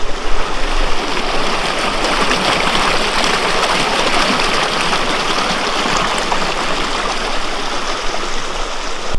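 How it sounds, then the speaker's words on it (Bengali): A mountain river rushing down from the hills beside rice fields, a steady broadband roar of flowing water that stays loud and continuous throughout, with no voices. "পাহাড়ের ওপর থেকে এই নদীর জলের স্রোত বয়ে আসছে আর এখান থেকে চলে যাচ্ছে নিচের দিকে।"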